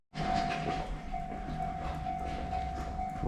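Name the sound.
train arriving at station in rural Japan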